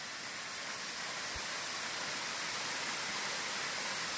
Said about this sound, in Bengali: ধারচুলা যাওয়ার পথে একটা জায়গায় এই ঝর্ণাটা পেলাম।